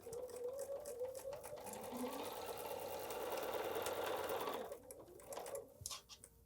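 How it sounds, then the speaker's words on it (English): Sewing machine running steadily while stitching quilt fabric along a drawn line, a continuous close motor whir for several seconds that slows and stops near the end. "I'll just sew down one side and sew up the other directly on the line."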